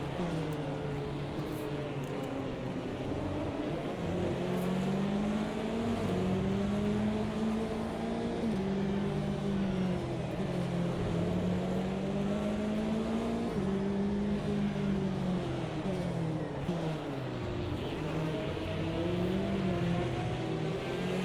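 A race car in a sim racing game drones along with a steady engine note that rises and falls through gear changes, rumbling over track strips, continuous and fairly loud with no talk.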